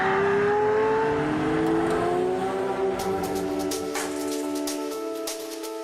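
A Pagani Zonda Cinque Roadster supercar engine revving loudly with a rising, sustained roar that eases off while sharp crackles and pops come through in the second half; no talking.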